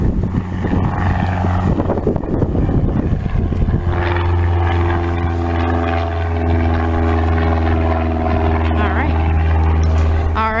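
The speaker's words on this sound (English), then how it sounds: "There's another aircraft, or probably another regular Cessna." A propeller aircraft, likely a Cessna, drones at Aurora Municipal Airport with a steady, loud engine hum, heavy wind buffeting the microphone and a person talking over it.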